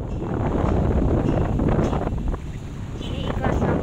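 Outdoor wind in Surabaya buffets the microphone with a continuous low, rumbling roar that dips briefly and then returns.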